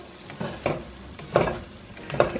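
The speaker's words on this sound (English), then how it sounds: "as soon as we're done sauteing this a little bit longer, we're going to add a little more fat so we can fry our beans." Vegan frijoles puercos sautéing in a pan, with a low sizzle broken by several distinct stirring scrapes and clatters at an uneven rhythm, close by and moderately loud, with no talking.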